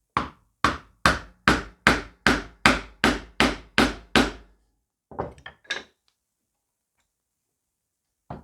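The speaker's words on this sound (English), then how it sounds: "On this side, I'm going to use a bigger chisel. Cut away half of the material." Eleven evenly spaced, sharp mallet blows drive a large chisel into wood while hand-cutting dovetails, followed by a few lighter, irregular taps and then near silence.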